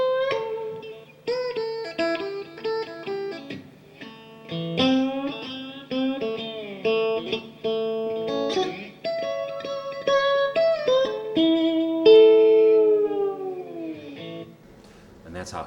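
Slide guitar played in a distinctive style: clean, singing phrases with notes gliding up and down between pitches, several expressive licks with short pauses, played alone at moderate volume.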